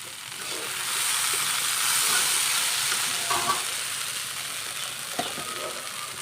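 Potatoes frying in a pan give off a steady, soft sizzle, with a few faint clinks and stirring noises rising briefly above the hiss.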